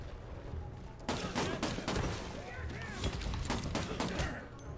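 Gunfire in the video game Redeemer: rapid, dense volleys of shots and thuds, fairly loud and continuous, with voices talking over the action.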